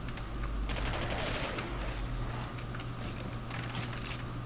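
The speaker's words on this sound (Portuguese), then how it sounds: "Tem que economizar munição, porque se eu ficar gastando desse jeito aqui, eu só tenho essa arma." Gunfire in the video game Singularity comes as rapid bursts of automatic shots over a constant low background hum. The volleys arrive in clusters and are fairly loud, with no speech.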